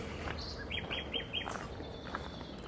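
A bird sings a short series of bright, repeated chirps over a low rumbling background hum from a truck.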